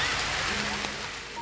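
Steady rain falling on a soggy morning in Washington, D.C., a dense continuous hiss of drops on surfaces with a faint voice mixed underneath.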